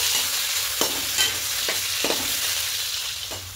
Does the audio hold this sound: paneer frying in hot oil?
yes